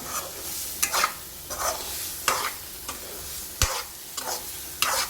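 Ridge gourd chutney is stirred with its hot tempering, rhythmic spoon scrapes around a pan about once a second over a low background sizzle, close and clear without speech.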